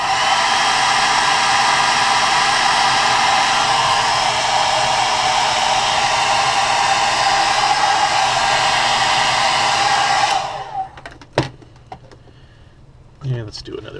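A heat gun blows a steady loud whirring roar while heat-setting a light coat of paint on a perch-pattern crankbait lure, running for about ten seconds before shutting off, followed by a few faint clicks and handling sounds.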